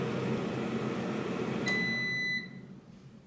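A Xiaomi Mi Smart Air Fryer 3.5L sounds its program-complete beep, a single bright electronic tone over a steady fan whir that then winds down.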